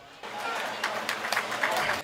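Audience at a Hindi comedy poetry gathering giving brief, thin applause, a scattered patter of clapping that swells slightly and stays fairly soft throughout.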